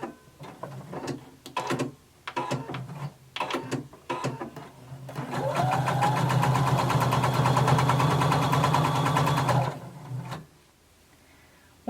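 A home sewing machine stitches fabric during a garment pattern tutorial, starting with several short stop-start bursts of stitching and then a loud, steady run of rapid mechanical needle chatter for about four seconds before stopping.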